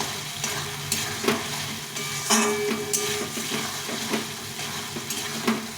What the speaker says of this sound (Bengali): আলুর সঙ্গে মশলাটা ভালো করে কষিয়ে নিতে হবে